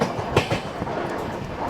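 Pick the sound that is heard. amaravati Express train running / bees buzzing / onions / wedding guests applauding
amaravati Express train running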